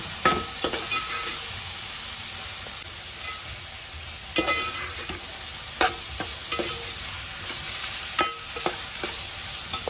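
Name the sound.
frying chilli powder and ginger paste for chicken pulao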